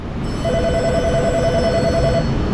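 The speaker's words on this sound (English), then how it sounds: "Phone is ringing." A telephone rings steadily in an auto repair shop, a loud electronic trill sounding continuously over the shop's background hum.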